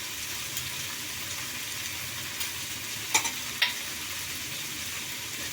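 A Bengali spice masala fries in oil for a potato and lentil-cake rezala, a steady close sizzle with soft stirring and a couple of sharp clinks of a spoon against the pan.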